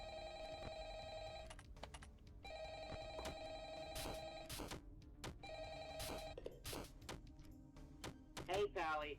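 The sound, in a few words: phone ringing in a video game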